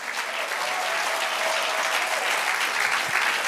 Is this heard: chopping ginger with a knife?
no